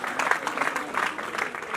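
Applause at a retirement programme comes through as a moderate, somewhat distant wash of crowd clapping, steady over a brief stretch with faint voices underneath.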